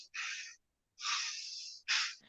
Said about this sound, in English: just heavy breathing into the microphone